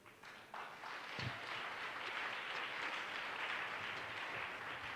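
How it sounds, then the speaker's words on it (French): Church congregation applauding during a worship service, a moderate, continuous patter of clapping that starts abruptly after a brief pause and holds steady, somewhat distant and roomy. "Et ton acclamation est trop maigre."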